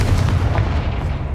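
A Confringo explosive spell blast in the video game Hogwarts Legacy, a single loud, close, booming burst with a heavy rumble that fades quickly, without talk.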